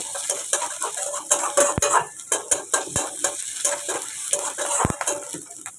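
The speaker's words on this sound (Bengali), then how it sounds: "এটা দিয়ে ভালো করে নাড়বো" A spoon stirs and scrapes food with chillies and garlic in a sizzling pan, giving rapid metallic clinks and scrapes over a constant frying hiss, close and busy.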